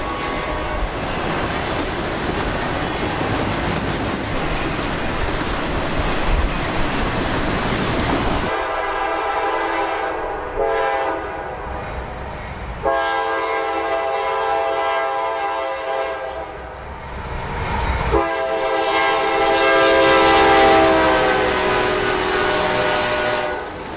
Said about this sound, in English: CSX really kept the trains rolling on this pleasant February afternoon as a father and his young son watched the train go by